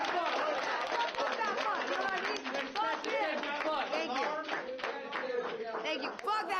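A classroom of students claps together, a busy scatter of handclaps mixed with chatter and movement, fairly close and lively throughout.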